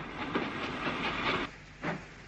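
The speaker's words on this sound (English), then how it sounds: "one of the Ivatt-designed 260s, which were known colloquially as the Flying Pigs, passes on another freight" An Ivatt-designed 2-6-0 'Flying Pig' steam locomotive on a 1950s-60s LMS line hauls a freight train past, steady rolling rumble and hiss with rhythmic clanks and clatter, close and continuous, with a final wheel beat after a brief lull.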